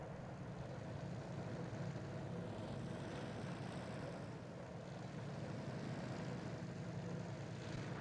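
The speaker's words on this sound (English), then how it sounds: "This is a P-47 testing counter-rotating props." A P-47 propeller aircraft with counter-rotating propellers drones steadily with a dense, rumbling engine roar, constant and fairly distant, with no other sounds.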